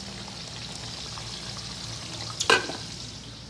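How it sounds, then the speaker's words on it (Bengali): Onions and cashews fry in oil for mutton biryani, a soft steady sizzle under a low hum, with one brief louder clatter or splash near the middle before it settles back. "পেঁয়াজটা ভেজে রাখছি উপরে দেওয়ার জন্য, কাজুটাকেও ভেজে রাখছি উপরে দেওয়ার জন্য।"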